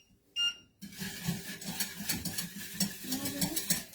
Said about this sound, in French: je mélange encore un peu